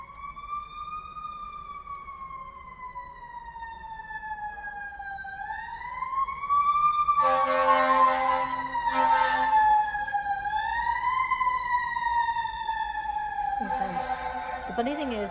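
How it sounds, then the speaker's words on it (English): Emergency truck sirens wail loudly as the vehicles pass, a long sweeping tone that slowly rises and falls, broken by harsh air-horn blasts midway and near the end. "When you hear these sirens,"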